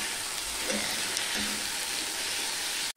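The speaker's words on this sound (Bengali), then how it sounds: "মিশিয়ে নিয়ে আমি একটুখানি কষিয়ে নেব।" A spice and tomato mixture with ginger sautéing in a pan, giving a soft, even frying sizzle that holds steady for a few seconds, close and without voices.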